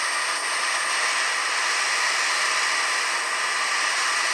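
A torch flame heats a metal part during welding and assembly of a 10-tonne Geismar lorry body, giving a steady, loud roaring hiss that holds unbroken and alone throughout.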